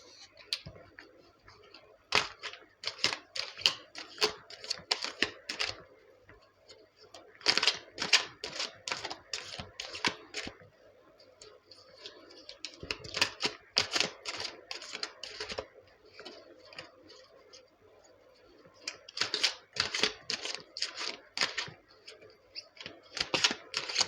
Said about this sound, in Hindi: एक बार मैं सारे कार्ड्स यहाँ पर शफल करके निकाल लूँगा